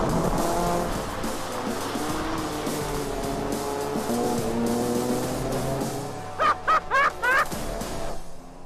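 Ford Fiesta one-make championship race cars at Mondello Park circuit: several engines roar and rev together close by, shifting gears, followed by short bursts of squealing tires near the end.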